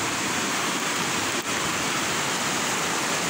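The Pemali river at Brebes, Bumiayu, swollen after light rain, rushes in a steady, dense roar of flowing water that fills the scene without a break.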